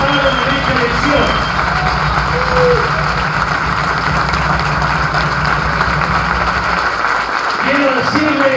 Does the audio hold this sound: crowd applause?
yes